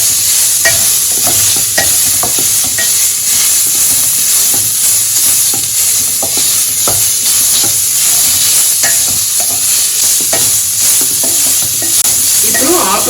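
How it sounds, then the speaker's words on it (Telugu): Mint leaves, with tamarind added, frying hard in a hot pan for pudina chutney. The loud, continuous sizzling hiss carries frequent scraping stirs throughout, with no voices. "ఇప్పుడు ఆకు వేగిపోయిందండి."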